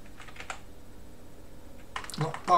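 A few keystrokes tap on a computer keyboard in a Linux desktop session, quiet and close, then a voice starts speaking near the end.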